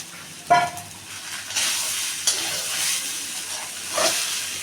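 Beetroot, carrot and potato frying in spices in a pan, giving a steady soft hiss and sizzle with a few louder stirring scrapes and bursts of steam.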